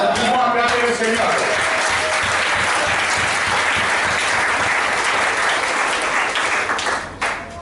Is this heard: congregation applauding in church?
yes